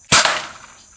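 A single loud, sharp crack of the Alpha potato gun firing a paintball round at a target, a sudden close blast that rings out briefly and fades, with no talking.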